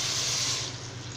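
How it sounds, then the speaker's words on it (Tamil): Water pours briefly into a dish of ridge gourd pachadi, a short hissing splash that fades quickly. "இப்போ வந்து தேவையான அளவு தண்ணி சேர்த்துக்கலாங்க."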